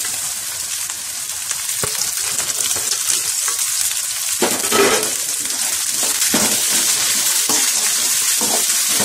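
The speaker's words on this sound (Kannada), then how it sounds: "ಬೆಂಡೆಕಾಯಿ ಎಣ್ಣೆನಲ್ಲಿ 1-2 ನಿಮಿಷ ಫ್ರೈ ಮಾಡಿ." Okra frying in hot oil with onion and curry leaves for a Karnataka-style bendekai gojju, giving a steady close sizzle with brief stirring scrapes and clicks throughout, no voices.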